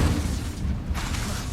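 A burst of fire from the Incendio spell in Hogwarts Legacy: a loud, dense low rumbling blast sustained across the moment, with a brief crackling flare midway, heard alone without talk.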